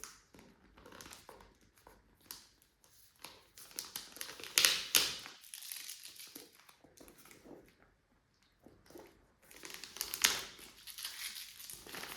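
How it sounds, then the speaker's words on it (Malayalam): Gift wrap on a mystery gift box being torn and crumpled open, with irregular bursts of crinkling and ripping paper, some sharp loud tears, brief quiet gaps between handling, close up and without talking. "സാധനം നമ്മൾ അൺബോക്സ് ചെയ്യാൻ പോവുകയാണ് ഗിഫ്റ്റ് റാപ്പിലൊക്കെയാണ് പൊതിഞ്ഞ് വെച്ചിട്ടുള്ളത്"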